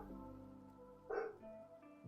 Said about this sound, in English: You're a dog and you know how to bark